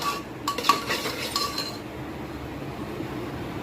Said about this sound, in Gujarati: હવે આપણે એને સરસ રીતે હલાવી દઈશું.